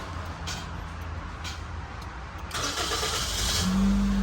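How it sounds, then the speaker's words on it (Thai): A car engine is started with a push button while the brake is pressed: a low idle hum, then the starter catches and the engine rises into a louder, steady running rumble close by. "อันนี้คือเหยียบเบรกแล้วก็สตาร์ทนะครับ"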